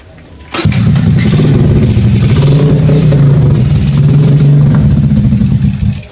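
An old motorcycle engine kicks into life after a brief click, then idles loudly and steadily nearby with a rough, throbbing putter.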